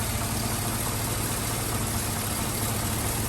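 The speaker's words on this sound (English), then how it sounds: "the compressor's on right now, and if you listen, it'll turn off" A/C compressor running on a 2006 GMC with the engine idling, a steady broadband mechanical drone with low hum, close and constant throughout with no voices.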